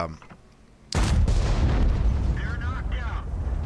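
An artillery shell fires in World of Tanks with a sudden heavy boom after a quiet moment, followed by a long rumbling tail while a commentator keeps talking.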